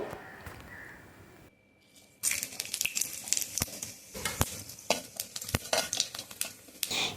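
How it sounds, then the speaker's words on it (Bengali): Whole garam masala, cumin seeds and a bay leaf dropped into hot oil left from frying fish and potatoes burst into a loud, crackling sizzle with sharp spattering pops, following a quieter kitchen stretch. "এবার এই তেলের মধ্যে ফোড়নটা দিয়ে দেবো"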